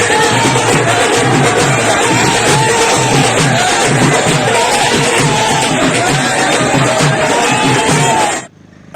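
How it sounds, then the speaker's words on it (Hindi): Large festival crowd at Lord Rama's wedding procession in Orchha, a loud dense babble of many voices with music and cheering that continues steadily, then cuts off abruptly near the end. "इस अवसर पर यहाँ पे काफ़ी भीड़ इकट्ठी हुई है।"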